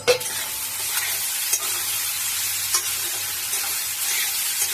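Egg rice with scrambled egg stirred in a hot pan, giving a continuous sizzle with a few soft scrapes of the spatula, close and steady, with no voices.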